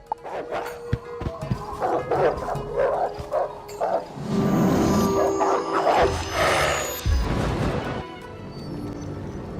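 Orthrus, a two-headed dog in the Wizard101 video game, barking and yipping in rapid overlapping bursts, with whimpering tones and growly layers between loud, close barks.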